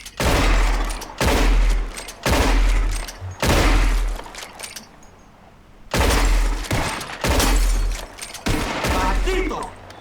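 Rapid bursts of revolver gunfire while shooting bottles in the video game Red Dead Redemption II, loud close volleys in several clusters separated by brief pauses.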